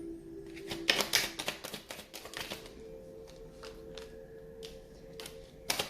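Tarot cards are shuffled and riffled in quick bursts of crisp clicking and flapping, close and quiet, with softer tapping in between.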